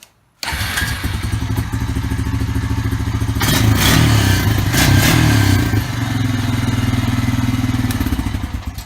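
Honda TRX 350 Rancher ATV engine, just refitted with a new carburetor, starts after a brief silence and runs loudly nearby with a steady chugging idle and a few revs in the middle.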